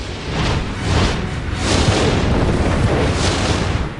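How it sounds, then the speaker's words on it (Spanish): An explosion sound effect for comet Shoemaker-Levy 9 striking Jupiter: a loud, continuous roaring rumble with rolling surges and no voices. "el planeta sufrió varias explosiones aéreas sucesivas a medida que rotaba bajo el cometa"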